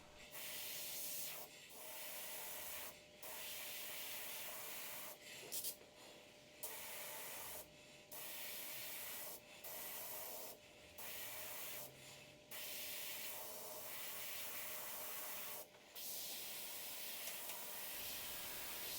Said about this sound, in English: Up nice and close with the airbrush, pulling back less on the trigger to get those sharper, more defined lines